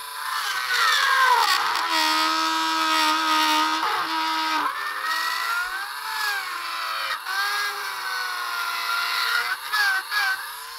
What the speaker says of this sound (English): This is ABS, so it's very easy to dremel out.